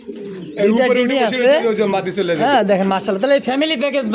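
Pigeons in a pen, a breeding pair with a chick and eggs, coo in low, throaty rolls underneath close, continuous conversation between two men.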